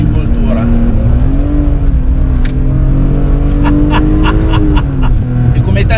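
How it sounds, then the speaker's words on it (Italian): BMW M3 E46 accelerating hard through mountain curves, a loud, close engine with rising and falling revs, with a voice speaking over it. "premere a fondo l'acceleratore"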